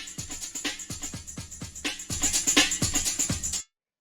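A breakbeat drum loop in 90s rave style plays alone, with punchy kicks, snares and crisp hi-hats in a steady syncopated rhythm, growing busier halfway through before cutting off abruptly.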